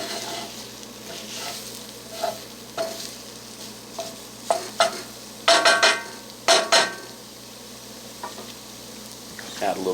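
Eggs frying in a cast iron pan with a faint steady sizzle, broken by a series of spatula scrapes and clinks against the iron, close and moderately loud.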